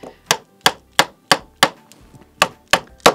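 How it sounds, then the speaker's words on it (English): A small hammer taps wooden Evertite stretcher bars together, landing nine sharp, evenly spaced knocks close up with no talk over them. "I'm going to slot this in between the next bar and use my little hammer"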